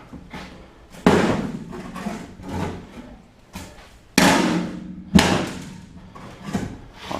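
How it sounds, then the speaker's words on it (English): A big gooseneck pry bar levers nails out of plywood on a school bus floor, producing several sharp close thuds and cracks spaced a second or two apart, with creaking scrapes between them. "Get yourself a big gooseneck pry bar. Pulls them right out."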